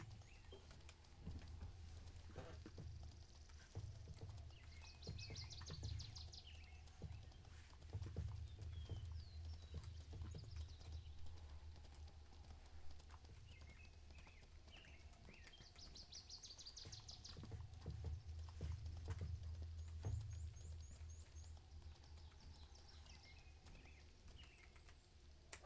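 A horse clip-clops along in an online video game, with soft, rhythmic hoofbeats that keep going steadily throughout, while occasional bird calls sound in the background.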